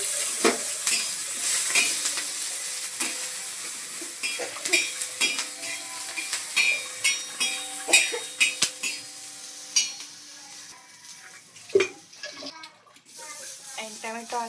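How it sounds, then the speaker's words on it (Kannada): Chutney ingredients frying in a little oil, a bright sizzle with irregular spatula clinks and pan scrapes nearby, plus brief bits of talk in the background. "ಅದು ಸ್ವಲ್ಪ ಎಣ್ಣೆ ಹಾಕ್ಬಿಟ್ಟು ನೀಟಾಗಿ ಹುರ್ಕೊಳ್ಳೋಣ"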